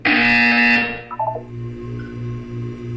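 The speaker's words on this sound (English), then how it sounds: "You will hear a buzzer." A buzzer in the video game Portal 2: a loud steady electronic tone for about a second that cuts off, followed by softer, evenly spaced low pulses.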